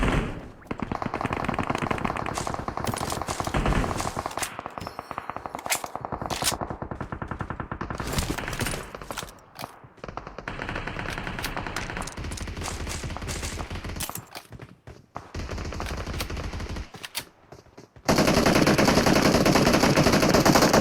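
Rapid automatic gunfire from a multiplayer shooter video game, sustained bursts of loud shots with brief pauses, ending in a dense continuous volley.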